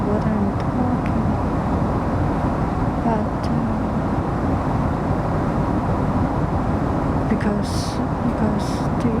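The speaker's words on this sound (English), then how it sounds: "the airplane is very, very noisy" Steady broadband roar of an airplane cabin in flight fills the whole stretch at an even level, with a person talking over it.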